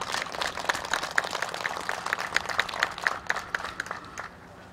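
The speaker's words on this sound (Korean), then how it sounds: "두 분 시장님께 감사의 큰 박수 부탁드리겠습니다" Audience at a joint signing ceremony for the GTX Gwangju–Icheon–Yeoju rail line proposal gives a round of crisp, fairly close clapping that thins into scattered claps and fades near the end.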